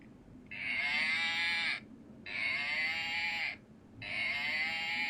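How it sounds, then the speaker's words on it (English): Cow mooing in the Icewind Dale II video game, three long, drawn-out moos in steady succession with short pauses between them, clear and moderately loud with no talking. "The cow we don't talk about, ironically, is the one that makes noise"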